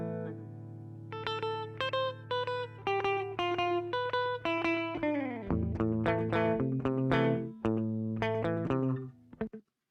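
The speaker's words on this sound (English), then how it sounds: "I'm just going to solo up the guitar DI here." Clean electric guitar DI signal soloed in a mix, playing sustained chords and ringing arpeggiated notes with a steady low bass note underneath, loud and dry, no voices, ending abruptly.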